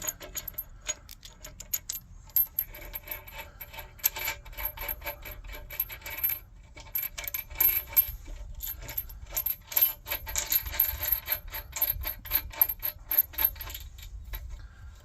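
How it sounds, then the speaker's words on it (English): Metal washers and nuts being placed onto bolts while fitting a bolt-on cutting edge to a welded-on one, giving scattered close clinks, taps and small metallic jingles in irregular bursts, fairly quiet, with no speech. "Let's put some washers and some nuts on here."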